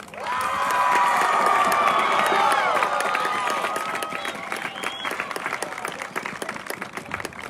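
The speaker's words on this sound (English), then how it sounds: "from the students all over there, would love to have a wonderful cheer for our amazing Mr. Fuller who made this happen." Students cheer and applaud at a sports field dedication ceremony, a loud burst of clapping mixed with shouts and whoops that peaks early and then settles into scattered, thinning claps.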